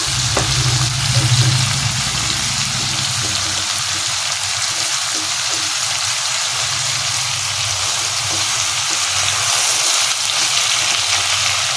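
Malabar spinach (puisak) stalks fry in a pan for a vegetarian ghonto, giving a continuous, even sizzle and hiss close by with no talk.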